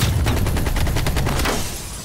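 AK rifle in the Call of Duty Black Ops Cold War video game fires a loud, close, steady full-auto burst of about a dozen rapid shots, then stops abruptly.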